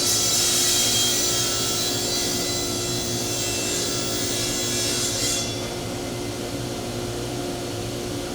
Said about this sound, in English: We start ripping all our pieces.